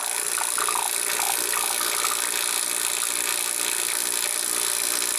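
A small HVAC vacuum pump runs with fresh oil, giving a steady, bright mechanical whine and rattle up close, continuous with no voices.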